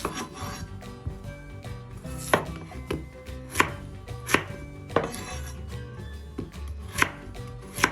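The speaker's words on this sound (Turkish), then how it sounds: "yıkadığımız patateslerimizi kabaca parçalara ayırıyoruz" Repeated knife chops through potatoes on a cutting board, uneven rhythm with sharp thuds over a soft background hum, close and fairly loud, no talking.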